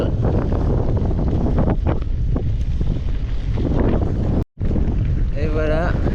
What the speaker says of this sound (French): On voit bien que le vent est d'est.